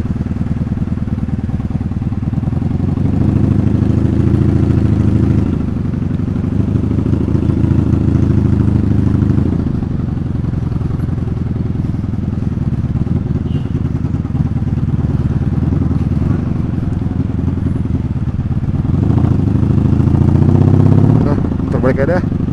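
Ride on a 1984 Honda Magna 750cc V-twin motorcycle, its engine a steady loud low rumble throughout with rises and falls in revs, someone talking over it at times.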